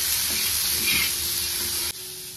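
Onion, capsicum, tomato and carrot fry in a pan, giving a loud, continuous sizzle with faint scraping from stirring. The hiss cuts down abruptly near the end.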